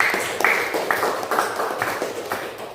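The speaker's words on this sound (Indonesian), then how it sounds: "tepuk tangan buat kelompok 3" Classroom of students clapping for a group, a brief, bright patter of many hands with slightly pulsing rhythm, moderately loud and close.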